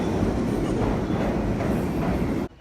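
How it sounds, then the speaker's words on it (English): A subway train roars through a New York City subway station, a loud, steady rumble that fills the space and then cuts off abruptly near the end. "We're down in the New York City subway stations."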